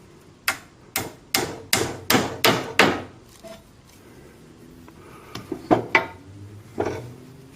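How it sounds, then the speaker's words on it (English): A hammer taps a wooden peg into a window sash joint: six sharp, evenly spaced knocks close by, then a pause and a looser cluster of lighter taps. "And then just tap it in place with a hammer."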